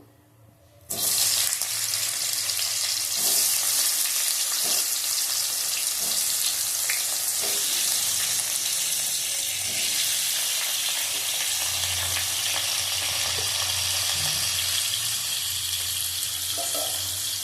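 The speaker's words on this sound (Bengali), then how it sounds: "আলু আর মূলো দিয়ে দিলাম" Potatoes and radish drop into hot oil tempered with nigella seeds, setting off a sudden loud, hissing sizzle after a quiet second that holds steady and close for the rest of the stretch, with a few faint stirring knocks and no talk.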